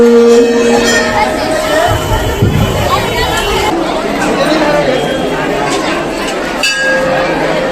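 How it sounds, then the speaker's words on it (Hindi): A dense crowd at a Hindu temple during Mahashtami, loud steady chatter and babble from many people close by, with occasional clinks and bell tones mixed in. "यहाँ इतना ज्यादा भीड़ है"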